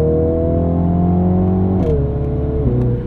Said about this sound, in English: Those gear shifts are so aggressive